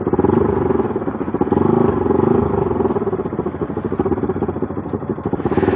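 A motorbike is ridden through open grassland near Palakkad, with a loud, steady engine drone close by that runs without a break and has a slight rhythmic pulse and rattle.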